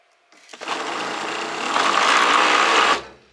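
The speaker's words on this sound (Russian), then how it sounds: "Крутится только одно колесо." A hoverboard hub-motor wheel spins freely on a table, a steady whirring hum that starts abruptly, holds for about two and a half seconds with a slight rise in intensity, then stops cleanly.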